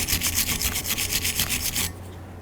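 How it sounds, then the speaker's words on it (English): Scraping and brushing a Dodge Journey front brake caliper bracket clean, a steady, close rhythmic rasp of strokes that stops abruptly near the end. "After you have it scraped, continue on with a nice brush and just clean it up fully."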